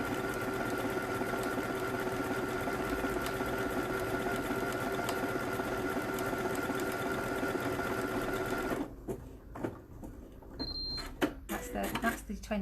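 A sewing machine stitches a stretch buttonhole with a steady, rapid mechanical whir that stops near the end, leaving a few clicks and handling noises.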